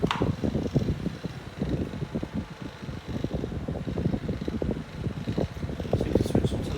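A Micromark 9-inch desk fan with a 25-watt motor runs on low while oscillating, giving a steady, soft airy whir beneath someone talking throughout.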